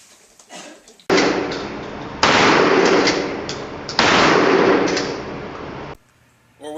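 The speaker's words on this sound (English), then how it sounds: "shooting a gun," Gunfire: three loud, sharp shots in sequence, each followed by a long ringing decay, with quiet before the first and after the last.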